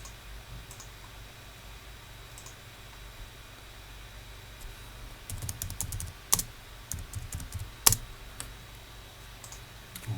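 Someone types a command on a computer keyboard, with light scattered key clicks that grow into a denser burst of taps and a few sharper strikes, close and alone over faint hiss.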